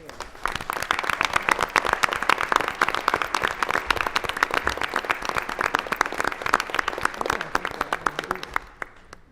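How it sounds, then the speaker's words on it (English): Applause at a quarterly board meeting for newly designated presidents as they stand: vigorous, dense clapping from a room of people, loud and sustained throughout before dropping off at the very end. "let us give you a round of applause"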